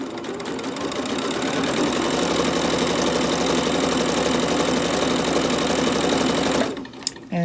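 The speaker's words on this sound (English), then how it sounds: "We're just going to sew all the way down using about 1/4 inch seam." A sewing machine runs steadily for about six and a half seconds, stitching a quarter-inch seam along a fabric scrunchie, then stops abruptly; the whirring motor hum is close and even, with no talking.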